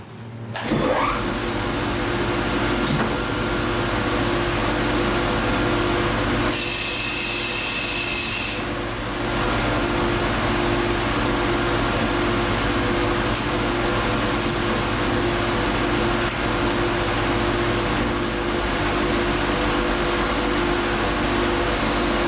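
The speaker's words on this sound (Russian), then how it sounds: "сейчас я отшлифую эту доску" A Felder FW 1102 wide belt sander runs through a wooden board with a loud, continuous mechanical whir and a steady tonal hum, close by, with a brief harsher hiss partway through.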